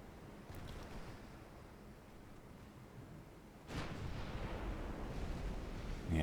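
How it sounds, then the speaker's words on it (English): Six-inch naval guns of a warship fire during a video game sea battle, a heavy broadband blast bursting out of steady wind and surf ambience, with a second boom hitting right at the end. "Yeah, 6-inch guns."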